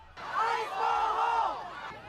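Hostile crowd during street clashes in Chicago, many voices shouting and yelling together in a loud, sustained roar.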